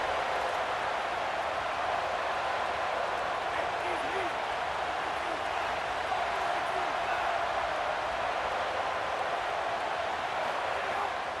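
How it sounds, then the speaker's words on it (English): A home crowd in EA Sports College Football roars steadily as a constant wash of cheering, with play-by-play commentary talking over it the whole time. "how nice is it to have the home crowd going absolutely bananas?"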